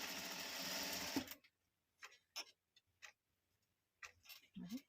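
An ordinary sewing machine runs a zigzag stitch in one close, steady burst of about a second, then short taps and clicks follow amid near silence.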